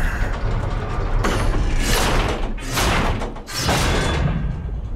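Heavy wooden and metal mechanism in the God of War video game as an axle is lifted and pushed into place, a loud grinding, scraping rumble with thuds, continuous for several seconds.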